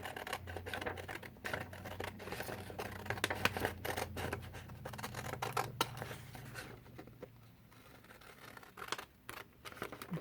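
Scissors cutting out a paper stencil for flat painting: close, repeated snipping and rustling paper, uneven in rhythm, with a low hum underneath and no talk.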